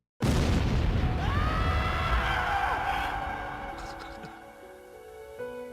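A single loud concealed-carry pistol gunshot cracks with an abrupt onset, then rings out in a long, slowly fading echo.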